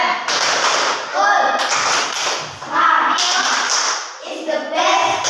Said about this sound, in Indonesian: yuk kita kasih tepuk juara dulu untuk kelompok Brilian